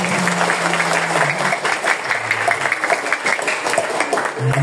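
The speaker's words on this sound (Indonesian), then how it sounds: "Tepuk tangan dulu buat saya." A crowd of parents and pupils gives loud, continuous applause at an elementary school's sixth-grade prayer and reflection gathering, the clapping steady and full, with a faint tonal hum beneath.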